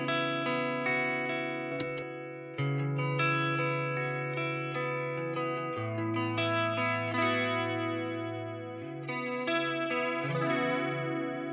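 A clean electric guitar runs through a WA-C1 chorus pedal set to maximum, its sustained chords shimmering and wavering as they ring out, steady and close with no voices.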